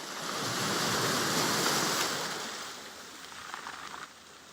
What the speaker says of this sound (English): Is our waves background noise now as they should be?